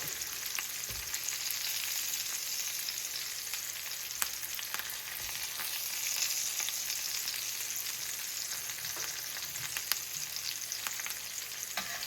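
Salmon sears skin-side in a pan with garlic and thyme, giving off a continuous loud crackling sizzle with occasional faint clicks throughout.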